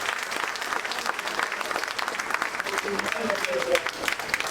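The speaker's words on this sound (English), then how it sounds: "So please give him a resounding round of applause" Audience applause at a 65th birthday lecture gathering, moderately loud and continuous with uneven bursts, voices audible under the clapping.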